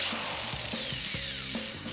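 An Icon 18-volt cordless hammer drill gives a short, close burst of rapid ratcheting, clicking hammer action lasting about two seconds.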